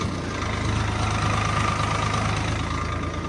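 Tractor engine running steadily while digging a pit for a thresher, a low, even diesel drone with a faint knocking pulse, continuous and moderately close with no voices.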